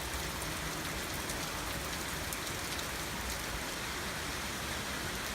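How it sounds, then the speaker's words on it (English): Heavy rain pours steadily into an outdoor pool during a tornado warning in Fort Lauderdale, a dense, even hiss of drops hitting water and nearby surfaces, with no voices. "You can see in the pool how much it's raining."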